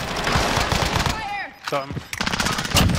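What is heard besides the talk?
gunfire in the video game Call of Duty Warzone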